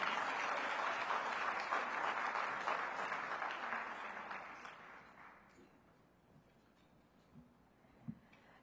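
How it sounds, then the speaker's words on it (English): An audience at a democracy champions luncheon hosted by the mayor gives a steady round of applause that gradually fades away, leaving a few scattered claps at the end. "Give her a warm round of applause."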